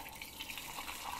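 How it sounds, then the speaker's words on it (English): Homemade carbonated water dispensed from a party tap into a cup, a faint steady hiss and splash of pouring liquid, brief and quiet with no talking. "then you can pour it just like that for everybody"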